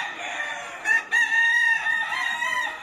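A breeding rooster at a Spanish gamecock farm crows one long, loud, drawn-out call close by, with other fowl faintly audible around it.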